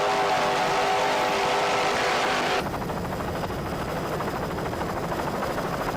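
A camera helicopter flies low over a powerboat race in Key West. A loud, steady rotor and engine roar fills the scene without pause and shifts slightly in tone partway through. No one speaks.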